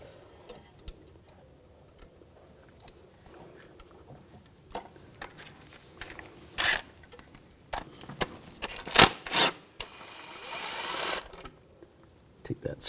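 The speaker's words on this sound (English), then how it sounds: "Now I'm going to take a 6 millimeter hex socket. I'm going to take these bolts out around the shield." A 6 mm hex socket on a ratchet works loose the bolts around the shield during a front right CV axle job on a 2004-2009 Audi A4 Quattro 2.0L, giving quiet scattered ticks and clicks with a few louder metallic bursts near the end.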